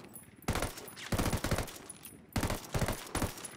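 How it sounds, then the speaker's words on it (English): Two quick bursts from an M4A1 assault rifle in Ghost Recon Wildlands, each a tight cluster of loud, sharp rounds, separated by a short pause with no talking. "I enjoy this gun in burst fire."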